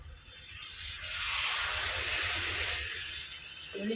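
A sharp hiss rises as water hits a hot pan of chicken and ground spice paste, swelling into a steady sizzle that fades near the end.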